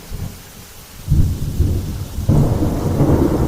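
A night thunderstorm with strong wind and heavy rain, deep rumbling thunder rolling beneath a steady hiss of rainfall that swells louder partway through, with no voices.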